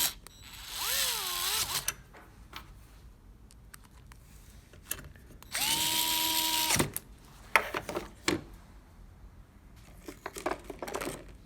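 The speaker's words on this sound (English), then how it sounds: "Gyroscopic screwdriver." A gyroscopic screwdriver drives 10-32 screws into the jaw of a Pony 24545 vise in two distinct whirring bursts with a wavering pitch, close and clear, separated by clicks and handling noises.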